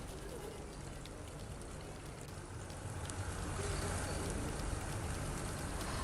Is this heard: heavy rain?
yes